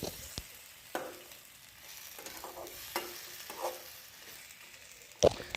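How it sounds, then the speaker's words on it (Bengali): Fish frying in a pan and being stirred, a soft steady sizzle with scattered scraping stir knocks and one sharper clink near the end, heard close with no voices. "এখন দেখো মাছগুলো দিয়ে একটু ভালো করে কষিয়ে নেবে"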